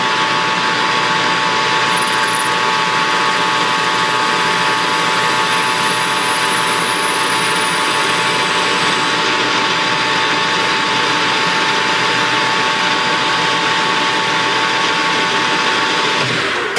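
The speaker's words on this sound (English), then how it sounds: "And now I'll face off this front." Metal lathe facing off a taper lock hub for a V-belt pulley, a loud, continuous machining whine and rumble with a steady tone throughout, close and uninterrupted, no talking.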